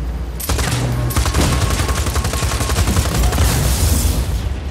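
Sustained automatic gunfire in Just Cause 4, shooting at an exposed generator after its plating is ripped off, rattles loudly and continuously for several seconds with dense rapid shots and booming impacts.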